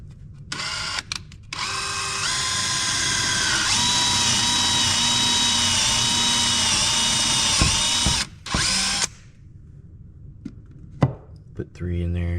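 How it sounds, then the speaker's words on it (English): Power drill countersinking screw holes in a subfloor being prepared for leveling compound and tile, running in long steady whirring bursts up close, with short pauses between runs and brief knocks near the end. "So I'm gonna countersink some holes in there"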